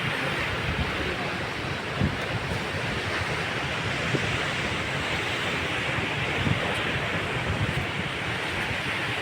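Steady roar of ocean surf with waves washing in continuously, broad and wind-blown, no voices.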